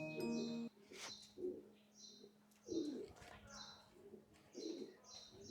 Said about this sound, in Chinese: 养了鸽子在里面